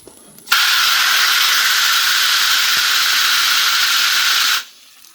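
Water rushes into a bucket of coconut coir, a steady loud hissing spray that starts abruptly, holds evenly for about four seconds and then cuts off, with no talking.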